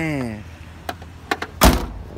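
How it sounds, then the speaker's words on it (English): Door of a 1985 Nissan 300ZX closing with a solid thud near the end, preceded by a couple of lighter latch clicks and a brief voice at the start. "Door shuts pretty good."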